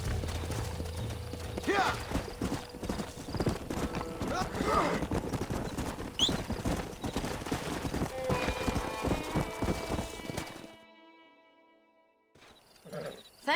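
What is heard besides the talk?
horse hooves galloping in Red Dead Redemption video game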